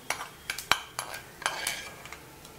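Coriander being roasted in a pan while a spoon stirs it, producing sharp metallic scrapes and clinks in an irregular series of about eight strokes, close and clear with faint background.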